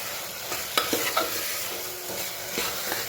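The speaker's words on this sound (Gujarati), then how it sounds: "મિક્સ કરી લઈએ બધું. ગેસની ફ્લેમ ફૂલ જ રાખવાની છે એટલે મસાલો સરસ ચોખામાં મિક્સ થઈ જાય." Spiced rice stirred in a pan over a full gas flame, a loud steady sizzle broken by quick spoon scrapes and taps against the pan.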